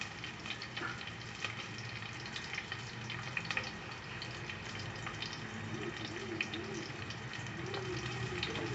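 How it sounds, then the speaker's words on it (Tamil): Small onions and two dried red chillies sautéing in a pan for a home dinner, giving a steady low crackle and sizzle with watery hiss throughout, no talk. "சின்ன வெங்காயம், அதோட கொஞ்சம் செத்தல் மிளகாய் 2 போட்டுருக்கேன். அதையும் சேர்த்து வதங்க விடுவோம்."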